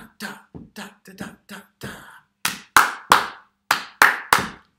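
Rhythmic hand clapping in a primary school music clapping game: a run of softer claps in a quick pattern, then louder, sharper claps spaced in time, all clear and near.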